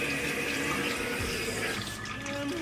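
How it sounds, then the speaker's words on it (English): Cold tap water rinses cooked beef for Vietnamese pho in a mesh strainer, a steady loud rushing stream splashing into a sink with no pauses and no talking. "So the purpose of running through the cold water is to wash away those greasiness."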